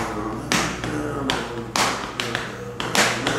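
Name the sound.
rhythm tapped on chest imitating click, click, boom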